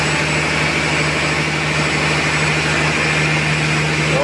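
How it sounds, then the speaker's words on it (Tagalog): Blower at a sewage treatment plant running, a loud, steady mechanical drone with a constant low hum and broadband whoosh, unchanging from start to finish. "So ito po yung blower."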